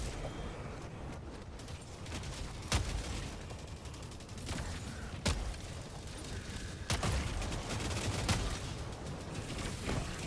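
In a video game, a grenade launcher fires about four sharp blasts at uneven intervals over a dense rumble of distant explosions and gunfire, with no talk.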